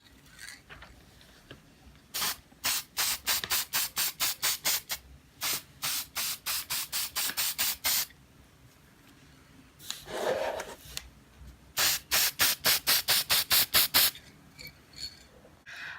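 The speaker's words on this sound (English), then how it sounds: "Now we're ready to spray it down." Repeated short bursts of aerosol spray hiss in quick rhythmic runs, pausing between sets, close and crisp with a softer rustle in the middle.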